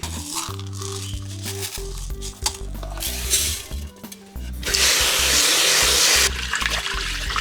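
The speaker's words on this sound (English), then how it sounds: "It's kind of hard to wash this little rice." Rice is rinsed in a small cup or mug, with running water pouring and splashing loudly alongside low, steady humming tones, growing louder and broader toward the end.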